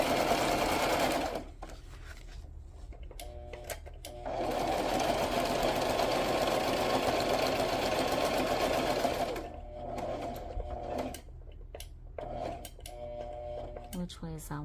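A sewing machine stitches a paper flip-flop base in bursts, running steadily, pausing, then resuming with short stops and clicks near the end; a voice speaks in the gaps.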